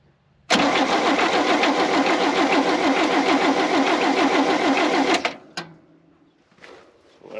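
An old International stepside pickup's engine cranks over on a battery, a loud, steady, rapid chugging that runs for several seconds without catching, then stops abruptly, leaving a few faint clicks and knocks.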